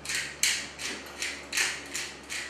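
A hand pepper mill grinds black pepper into a cooking pot for chicken and dumplings, giving about six rhythmic scratchy crunching twists in quick succession, close and clear, with no talking.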